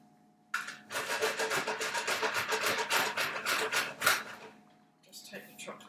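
A piece of dark chocolate is rubbed across a grater in a home kitchen, giving a steady run of rapid rasping strokes for several seconds that stop, then resume briefly.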